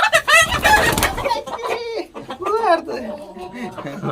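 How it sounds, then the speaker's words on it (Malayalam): Chickens cluck and squawk loudly up close, several birds calling over one another, with a person's voice mixed in. "പലയിനം കോഴികളാണ് നമ്മളിപ്പോ ഇവിടെ സജ്ജമാക്കിക്കൊണ്ടിരിക്കുന്നത്"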